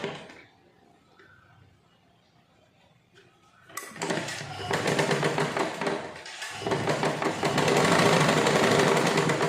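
After a quiet start with faint handling, a sewing machine kicks in loudly, stitching tucks in a blouse with lining. It runs in a fast, dense chatter, pauses briefly, then resumes louder.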